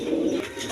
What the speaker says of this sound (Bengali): এখানে আরেক পেয়ার কালারিং রাজগোল্লা কবুতর আছে